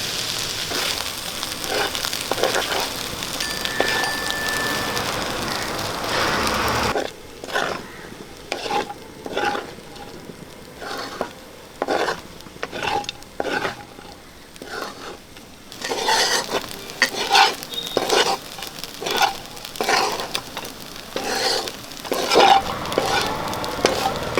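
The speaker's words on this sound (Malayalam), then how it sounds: "നമുക്ക് ഇടയ്ക്കിടയ്ക്ക് ഇളക്കി കൊടുക്കാം" Onion chicken frying in an uncovered pan hisses and sizzles while a spoon stirs and scrapes it in repeated bursts. A steady sizzle comes first, then choppier stirring strokes close up, with no voices.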